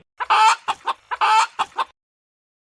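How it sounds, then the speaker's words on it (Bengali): Cartoon mother hen clucking angrily in loud, close bursts, two longer scolding squawks each followed by a few quick clucks, then a short silence. "এতে করে মা মুরগি খুব বিরক্ত হয়ে বকাঝকা শুরু করে"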